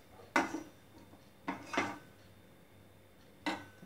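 Homemade potato chips frying in a pan, stirred with a utensil, giving three or four distinct scraping clinks against the pan over a quiet background.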